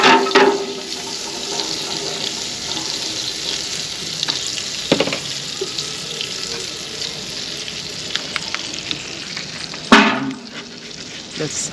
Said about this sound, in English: Now let's add some butter to the pan.